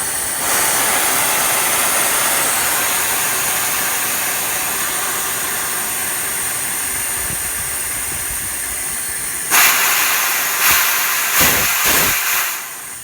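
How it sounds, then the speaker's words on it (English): Compressed air hisses loud and steady as pressure is bled from a mobile air unit's line through a slowly opened bleeder valve, then sputters into a few short bursts near the end. "I always bleed the pressure off the line"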